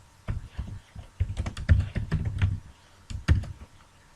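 Rapid typing on a computer keyboard, bursts of clicky keystrokes with short pauses between, close and clear with no voices.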